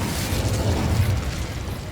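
Incendio fire spell cast in Hogwarts Legacy on PS5, a loud, dense whooshing burst of flame that fills the whole two seconds with rumbling low crackle and no pause.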